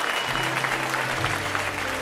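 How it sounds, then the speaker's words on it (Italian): Applause from a concert audience fills the room, even and sustained, with a low musical hum lingering beneath the clapping. "bisogna fargli un grande applauso"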